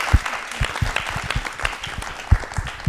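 Audience applause at a televised talk show, a crowd clapping in scattered, uneven claps that rise and fall over a few seconds, fairly close.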